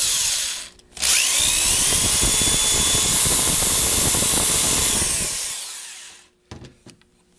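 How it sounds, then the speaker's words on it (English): A power drill with a 1/8 inch bit whines loudly and steadily as it bores through material where a light post will go, starting abruptly, holding a constant high-pitched run for about five seconds, then winding down, followed by a few faint clicks. "drill all the way through where you want the light post to be"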